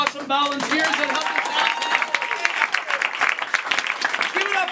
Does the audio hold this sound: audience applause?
yes